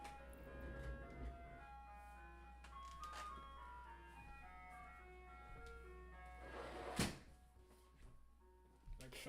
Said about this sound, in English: I fucking hate ice cream truck.